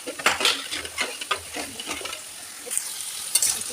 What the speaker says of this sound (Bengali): এই দিকে হচ্ছে গিয়ে সবজিগুলোকে আগে ভেজে নেওয়া হচ্ছে।